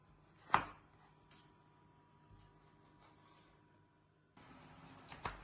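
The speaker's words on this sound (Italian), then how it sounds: "Tagliamo le carote a bastoncini." A single sharp knife chop through carrots on a board, cutting them into sticks, followed by quiet handling noises and another firm chop near the end.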